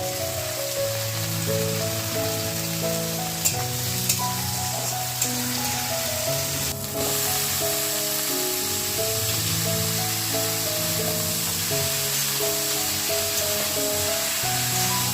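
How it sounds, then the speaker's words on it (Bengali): Rice sizzles in a hot kadai with a steady, even hiss that runs the whole time, set against soft background music and no speech. "এখন এটা কড়াইয়ে চালটা দিয়ে দেবো দেওয়ার পরে চালটা দিয়ে একটু ভেজে নিয়ে"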